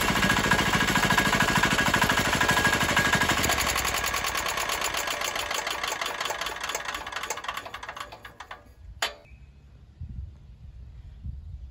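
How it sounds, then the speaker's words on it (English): A 196cc Chinese single-cylinder diesel engine runs with a rapid, steady knocking chug, then slows and dies away after the decompression switch is used, ending in near silence with a few faint clicks. "I'll show you that you can turn this off with that decompression switch."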